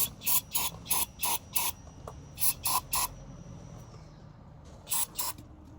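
Brake cleaner sprayed in short pressurized bursts into a Kia car part, about a dozen sharp hissing blasts in quick groups with brief pauses, close and loud over a quiet background.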